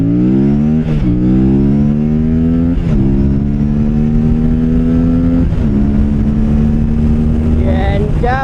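An Aprilia RS 457 motorcycle accelerates hard on an open highway, its engine revving up through several gears with a rising whine that drops at each shift, loud and close, with steady wind roar.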